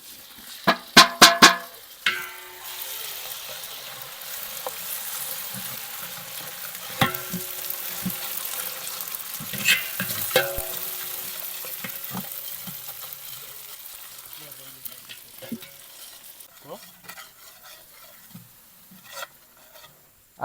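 Ginger garlic chili paste fries and sizzles with onions in a hot pan for a chicken masala, with a steady crackle, stirring and scraping throughout and a few sharp clinks near the start.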